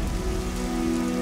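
Steady rain falls on the Waterloo battlefield of 1815, a continuous close patter with a low sustained drone beneath it throughout.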